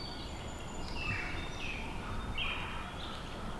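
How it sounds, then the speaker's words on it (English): Faint bird chirps and short whistled calls ring out over a soft, steady outdoor hiss, scattered and distant. "Listen to those birds."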